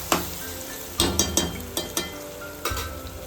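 Salted chopped onions sautéing in a pan for prawn biryani, a steady close sizzle broken by several sharp clacks of a spoon or spatula against the pan.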